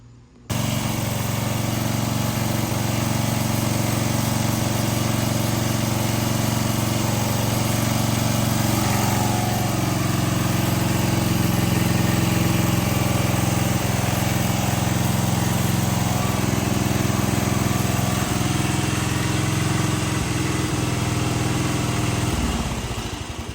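A 41-year-old small engine runs after a new carburetor was fitted, a steady, loud, buzzing drone that keeps running evenly for over twenty seconds before dropping off at the end.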